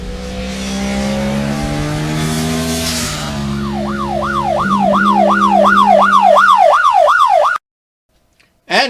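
A wailing emergency siren sweeps rapidly up and down, rising over steady motorcycle engine noise during a ride on a 1977 Yamaha RD400, loud and close before cutting off abruptly.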